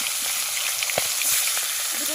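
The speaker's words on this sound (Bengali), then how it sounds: "আপনারা দেখুন কেমনভাবে মাছের মাথাটা ভাজবে" A katla fish head fries in hot oil in a pan, giving a steady bright sizzle with small crackles and one sharper pop near the middle, close up and without talk.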